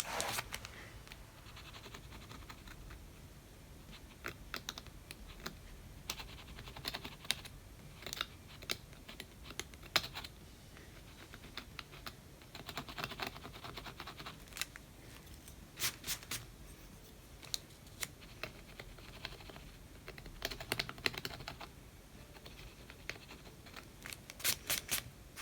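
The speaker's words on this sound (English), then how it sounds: "You can draw with a palette knife." A palette knife scratches across homemade scratch art paper, making faint, quiet, irregular scraping and ticking strokes in short bursts over a soft background hiss, with no talking.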